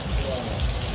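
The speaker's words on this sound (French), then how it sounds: "On n'a jamais eu autant de pluie en partant en septembre, en octobre et en mai." Steady heavy rain pouring in Miami, a dense, continuous wash of close falling water with no voices.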